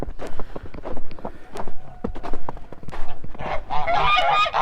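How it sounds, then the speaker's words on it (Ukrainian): A flock of Kholmogory geese honking repeatedly, close by, with overlapping calls and some shuffling footsteps; the honks grow busier and louder toward the end. "Гусочка наша з гусьми."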